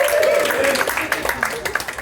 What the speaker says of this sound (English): And clap it up for your next player